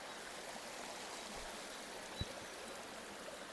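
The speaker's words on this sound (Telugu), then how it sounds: "వినబడుతుంది క్లియర్గా వాటర్ ఫాల్స్ చూడండి ఎలా వెళ్తున్నాయో" A waterfall at Aluru Kona near Tadipatri flows in a steady, even broadband rush with no pauses, broken only by a single faint click.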